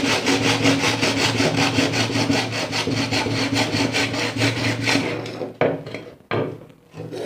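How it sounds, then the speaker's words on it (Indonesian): Hand saw cutting through gypsum cornice molding held at an angle for a corner miter, a steady rhythmic rasp of even back-and-forth strokes, close and loud for about five seconds, then a few scattered final strokes alone. "Oke, kita gergaji."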